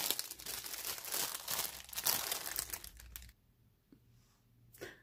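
Paper wrapping crinkles and rustles as it is pulled off a small pouch, busy and close for about three seconds, then stops, leaving near silence with a couple of faint handling sounds.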